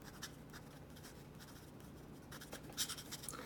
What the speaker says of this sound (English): I find this nib to be a little bit scratchy